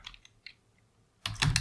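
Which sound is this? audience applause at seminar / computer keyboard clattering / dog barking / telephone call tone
computer keyboard clattering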